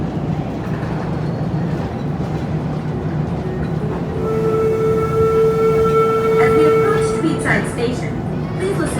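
An amusement park ride train rolls into its station at Busch Gardens Williamsburg, a steady rumble with rising mechanical whine and tonal squeals as it slows, loud and close, with background voices around it.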